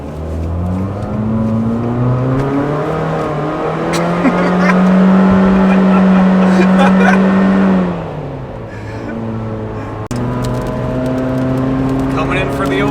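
A rental Nissan Versa accelerates hard with its engine climbing steadily through a long, loud rev, holding a high drone before dropping on a shift and pulling up again, heard close from inside the car.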